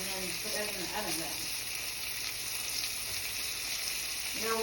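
Tomatoes frying in a big iron skillet, a constant bright hiss of sizzling oil throughout, with a few faint background sounds underneath.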